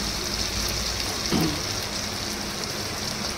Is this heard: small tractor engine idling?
no